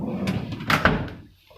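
A large drawer on the cart of an S6100 anesthesia machine slides and bumps shut, giving two quick, moderately loud knocks over a brief rolling rumble before it settles into quiet.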